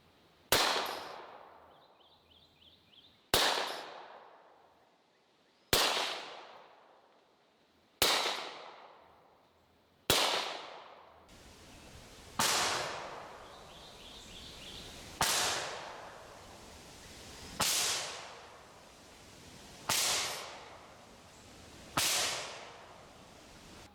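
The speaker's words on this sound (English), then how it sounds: "I'm gonna shoot past it and we're gonna see what that sounds like" A suppressed Desert Eagle .50 cal pistol fires subsonic ammunition in the woods, heard from about 100 yards away: ten sharp cracks at a regular pace, a few seconds apart, each trailing off quickly.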